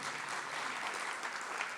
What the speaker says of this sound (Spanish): un merecido aplauso